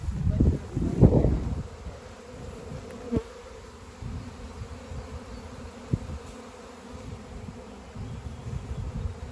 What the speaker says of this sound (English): They are coming out of this hive over here. This is the one that swarmed yesterday.